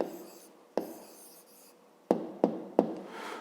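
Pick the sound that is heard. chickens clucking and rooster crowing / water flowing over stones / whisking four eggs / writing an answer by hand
writing an answer by hand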